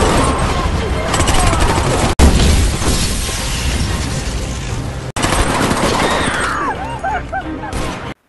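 Gunfire in a Korean war film as men burst in and shoot everyone in a room: sustained loud volleys of automatic fire with glass shattering, interrupted by brief cuts.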